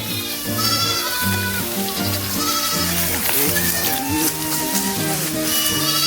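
Several goats bleat over and over while grazing outdoors, overlapping wavering calls up close, with a steady background hiss throughout.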